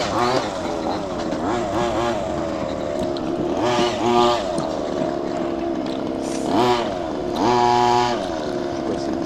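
Radio-controlled 2WD race car on a track, its motor whining steadily and surging into repeated rising accelerations, with wind rumble and voices nearby.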